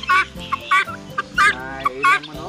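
A turkey on a Filipino poultry farm gobbles in several rapid, loud bursts close to the microphone, with other fowl calls between them and no talk.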